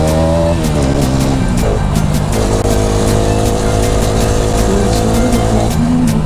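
A motorcycle is ridden hard through corners, its engine loud and close throughout, rising and falling in pitch with repeated revving and gear changes.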